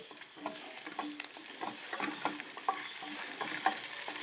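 Quiet sizzle of a tempering poured into a homestyle horse gram and jackfruit seed curry, with light crackling and a steady pattern of stirring scrapes close by, no voices.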